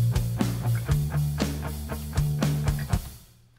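A MIDI drum pattern programmed in Studio One, with every hi-hat note at the same velocity: short, evenly spaced hits at a brisk steady pulse that sound stiff and mechanical, fading out at the end.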